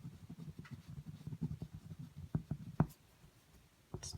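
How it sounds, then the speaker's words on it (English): A pen scratches out a name on a paper form in short, quiet strokes, close and soft with brief pauses between marks. "And then down here I'm gonna write my name."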